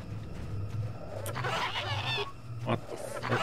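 In Star Wars: Knights of the Old Republic, a honking, quacking bird call comes twice in short bursts over a low game hum. People talk close by at the same time.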